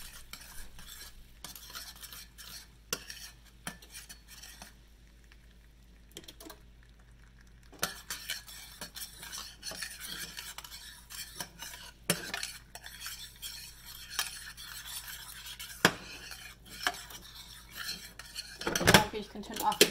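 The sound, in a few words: melting sugar in a pot for flan caramel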